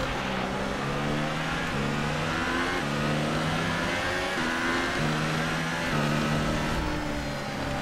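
A Formula 1 car in a racing video game revs and climbs through its gears, the engine tone rising and dropping in repeated shifts, loud and continuous with no voices.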